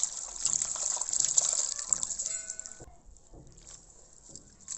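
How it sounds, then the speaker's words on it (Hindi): Spinach leaves washed in water in a home kitchen, a faint splashing rush of running water for about three seconds that then stops, leaving light handling noises. "अब पालक भी धो लेती हूँ।"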